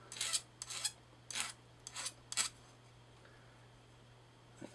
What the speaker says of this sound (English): I'm deburring it with the end of the file.